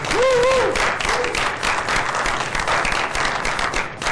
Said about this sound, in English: I wish you were here to hear your applause.